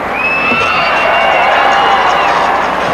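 A packed arena crowd at the 1991 World Gymnastics Championships men's team competition cheers and roars loudly and continuously, with a rising shout carried over the din.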